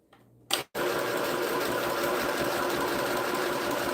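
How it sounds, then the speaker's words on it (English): An electric sewing machine stitching fabric starts after a brief click and then runs as a loud, steady, fast whirring chatter at close range. "I'm sewing crooked by the looks of it"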